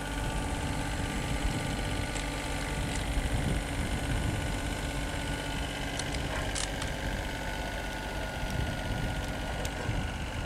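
Tractor engine idling and rumbling steadily as it rolls over a steel-toe boot, a continuous mid-low drone with faint rattles and vibration, no voices.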